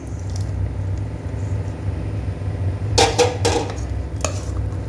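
Spoon scraping and clattering in a pot as tempering is stirred into ven pongal, a few sharp metallic knocks clustered midway over a steady low kitchen hum.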